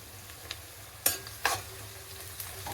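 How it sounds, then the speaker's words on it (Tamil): Tomatoes sauté in a pan for chicken biryani, a soft steady sizzle with two sharp spoon scrapes against the pan, close and quiet with no talking. "தக்காளி வதங்கட்டும்."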